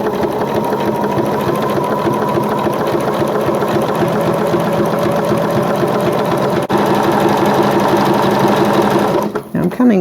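Sewing machine stitching a zigzag applique, running steadily with a fast, even mechanical whirr throughout, close and loud, with a brief pause in the rhythm and then a stop at the end.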